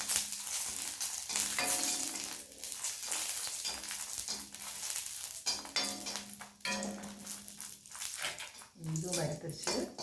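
Chillies fry in a little oil for a prawn thuvaiyal, a dense crackling sizzle punctuated by spoon scrapes against the pan, with a voice talking over it at times.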